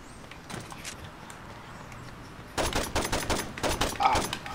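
Rapid bursts of gunfire in Saints Row 2, first faint and distant, then a louder close run of quick repeated shots in the second half, with a player's voice briefly in the mix.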